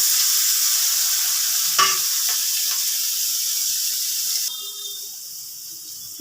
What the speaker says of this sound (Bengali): এবার এটাকে একটু জাস্ট হালকা ফ্রাই করব।